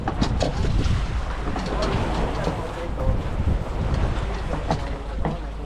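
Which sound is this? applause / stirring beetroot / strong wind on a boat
strong wind on a boat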